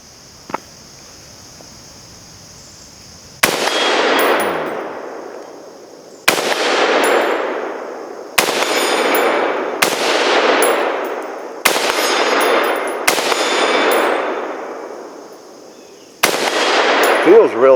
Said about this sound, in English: A couple more shots.